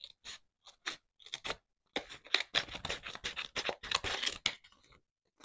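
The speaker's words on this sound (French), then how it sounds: "Je prends mon petit morceau comme ça, que je vais découper." Scissors snip through a small piece of paper during card-making craft work, a run of short crisp cuts, irregular at first and then coming quickly and close together, near and alone with no talking.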